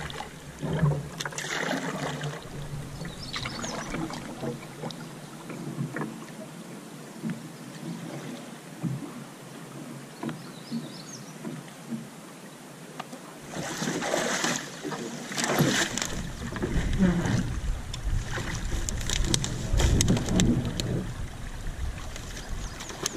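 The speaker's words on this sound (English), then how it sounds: "we've been paddling down the Madawaska" Canoe paddling down the Madawaska River, with soft water swishes and paddle strokes outdoors amid light wind and river ambience, rising a little louder in the second half.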